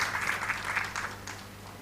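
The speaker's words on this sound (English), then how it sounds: "a huge round of applause for Gitika." Audience applause at a women's summit for a speaker, a brief burst of dense clapping that fades toward the end.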